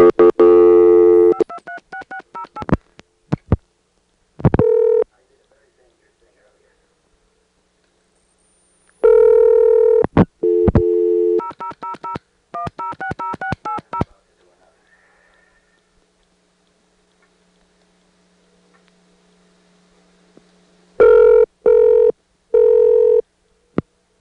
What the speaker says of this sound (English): I'm going to try an 800 call, operator assisted.